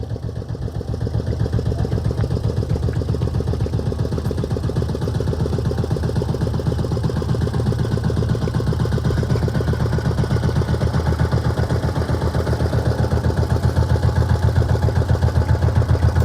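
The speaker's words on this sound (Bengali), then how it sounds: "বোট চলে আসছে আমাদের মাছ নিতে" A motor boat engine chugging steadily on a river with a rapid, even pulsing beat that holds close and loud, swelling slightly near the end as the boat approaches to collect fish.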